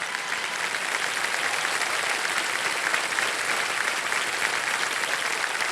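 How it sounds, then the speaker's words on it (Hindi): Studio audience applause for contestant Pavitra on the quiz show Kaun Banega Crorepati, a thick, even roar of clapping that holds at full strength throughout. "तालियां बजते रहे पवित्रा जी के लिए"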